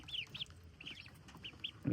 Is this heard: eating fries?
no